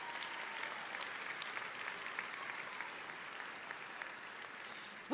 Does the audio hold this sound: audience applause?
yes